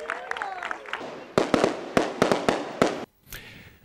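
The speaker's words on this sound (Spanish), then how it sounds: "concluyó con un espectáculo de fuegos artificiales" Fireworks burst at an evening celebration in Manilva: a rapid series of loud cracks and booms, several close together, over a murmuring crowd, ending in a brief silence and a final rising whistle.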